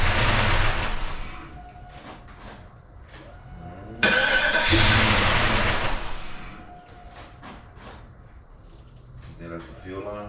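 A 2001 Cadillac Deville with a Northstar engine and a blown head gasket cranks and fires up, a loud rush of engine noise that settles into idle, with people talking nearby throughout.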